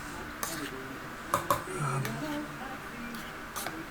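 Cooked potatoes being mashed with a masher in a pot: soft thuds and scattered metallic clinks and scrapes at an uneven pace, fairly quiet and close, with a few faint voice sounds mixed in.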